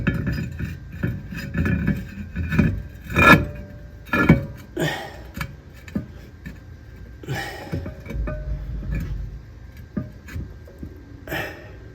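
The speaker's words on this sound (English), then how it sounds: "now we can put the rotor back on" Metal clanks and clinks as a brake rotor is lined up and fitted back onto the wheel hub of a Nissan GT-R, with several sharp knocks, scrapes and a few louder impacts spread across the work.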